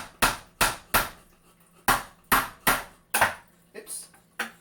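A hammer drives nails while building sound damping scrolls, with about nine sharp, loud, close strikes in an uneven rhythm and short pauses between blows.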